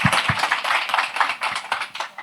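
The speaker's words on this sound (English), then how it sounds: "Let's clap it up for her." An audience claps for a woman on stage, a brisk patter of many hands at moderate volume, steady and fairly close throughout.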